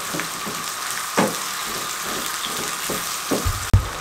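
Sliced onion frying over a medium flame in a pan while being stirred, a steady soft sizzle broken by occasional scraping and clinking strokes of the spoon, with no voices.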